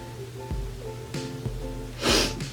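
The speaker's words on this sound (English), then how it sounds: "I'm like constantly sniffling" A person with allergies sniffles through the nose in a few short, sharp bursts, spaced out over a steady humming background indoors.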